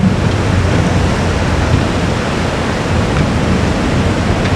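The flooded Progo river rushes past a riverbank work site, making a loud, dense and unbroken roar of fast-moving water with no voices.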